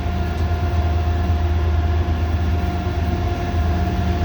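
Loaded CSX coal train hauled by locomotives rolls past nearby, a steady loud low rumble and drone of wagons on the rails that holds constant throughout with no voices.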